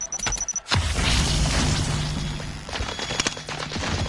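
A frag grenade detonates in a Call of Duty match, a sharp close blast followed by a rumbling roar that lingers, with scattered gunfire crackling behind it.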